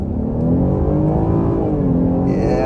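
A 2023 Chevy Blazer RS in sport mode accelerates hard through a sharp turn, its engine note droning steadily and rising in pitch, loud and close with no voices.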